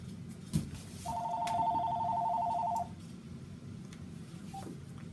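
A single telephone ring in a radio broadcast studio, a steady double-toned electronic trill lasting nearly two seconds, loud and close over a low background hum, with a brief faint chirp afterward.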